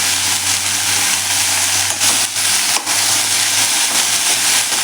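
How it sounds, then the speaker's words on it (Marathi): Chopped fenugreek leaves sautéing in melted butter for methi matar malai, a loud continuous sizzle and frying hiss with occasional stirring scrapes, close up and without talk. "आता आपण त्यामध्ये ही मेथी परतून घ्यायची आहे"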